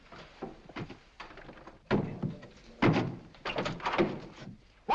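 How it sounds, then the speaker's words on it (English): Steam knocking inside water pipes gives a run of irregular, fairly loud thunks and knocks, with several heavy bangs clustered over a few seconds indoors. "What's just the steam in the water pipes?"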